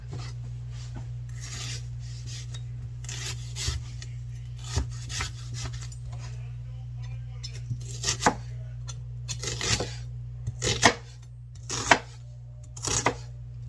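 Repeated knife strokes chopping birria ingredients on a board, irregular and fairly close, with a steady low hum running underneath throughout.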